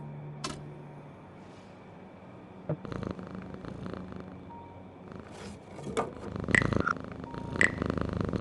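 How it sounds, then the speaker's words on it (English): A cat purrs by an open window on an evening street in the game Frequency Missing, a soft low steady rumble under faint ambience, with a few brief clicks and rustles toward the end. "There's a cat up there by an open window, enjoying the evening air."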